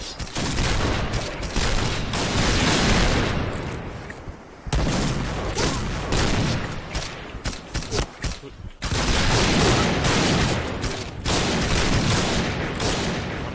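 Dense, sustained gunfire from the first-person shooter Point Blank, loud bursts of rapid shots filling most of the stretch with two brief breaks, and a little talk underneath.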